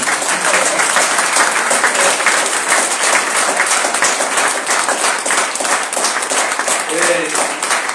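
A church congregation applauds continuously for several seconds, close and loud, with voices mixed into the clapping.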